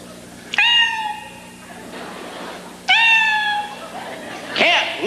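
A voice imitates a cat meowing, two drawn-out nasal meows close and clear with a quieter pause between, ending on a short rising cry.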